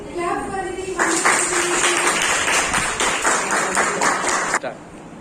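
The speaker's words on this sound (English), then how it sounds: "Clap for Aditi." A classroom of students claps for a classmate, a dense burst of applause lasting several seconds before cutting off abruptly, with a voice speaking just before it begins.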